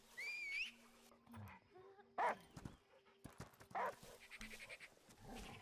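A dog in the video game Last Day of June gives short barks and whimpers amid sparse game sounds and tones, fairly faint with quiet gaps between the bursts.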